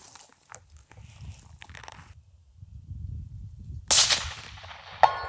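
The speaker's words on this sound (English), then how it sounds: "Dead on, upper third of the target, we should hear a clang." A rifle shot strikes a steel target at a shooting range, giving one sharp, loud crack followed about a second later by a short metallic ring, set against quiet outdoor background noise.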